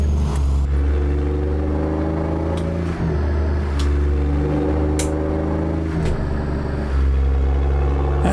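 A heavy truck engine in American Truck Simulator, a Peterbilt 379 hauling an eight-axle hopper, runs at raised RPM and high power. It holds a steady, loud, low drone with faint clicks over it and no talk.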